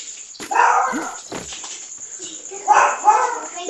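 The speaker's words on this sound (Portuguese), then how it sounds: "Meu cachorro tá latindo aqui." A dog barks in a few short bursts nearby, mixed with people talking and a high-pitched background tone.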